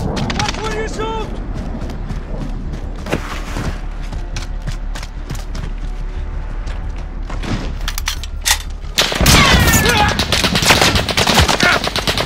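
Loud rapid machine-gun bursts and single shots in Call of Duty: Modern Warfare, a multiplayer Domination match on the Grazna Raid map, with a heavier barrage near the end and voices talking over the combat.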